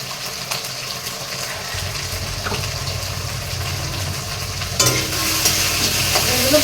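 Food frying in a pan with salt and turmeric, a steady close sizzle with scraping stirs running throughout and a louder burst of sizzling toward the end.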